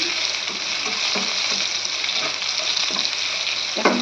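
Sliced radish fries in a pan with onion, salt and turmeric, giving a constant bright sizzle while a utensil stirs it with occasional soft scrapes and knocks.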